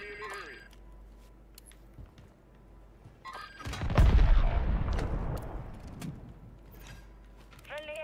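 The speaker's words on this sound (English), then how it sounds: "Friendly airstrike in the AO." Friendly airstrike explosions in a video game roll in as one heavy, booming blast that swells and rumbles for a couple of seconds before fading, set between sparse game effects and short tonal cues.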